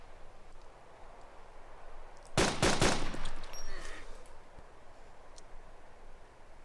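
A short burst of gunfire in the DayZ Mod game, a few quick loud shots in a row cutting through a low hiss of background noise before it settles back.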